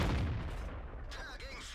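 Tank gun firing in World of Tanks, a single heavy boom at the start that rolls off into a low rumble, followed by faint battlefield noise.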